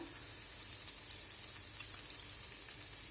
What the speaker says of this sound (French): les oignons commencent à revenir. On va ajouter l'ail